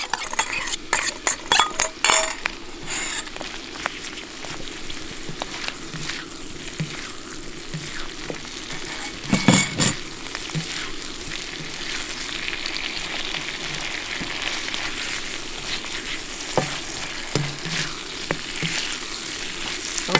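Onion and sauce sizzle in a pan as a utensil stirs and scrapes against it, with steady frying and clinking metal strokes throughout and no voices.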